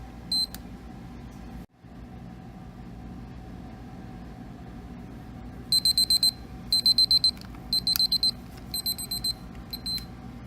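A digital lab timer alarm goes off after a 15-minute wait during a chemistry demonstration, giving several bursts of rapid high-pitched beeping over a steady background hum.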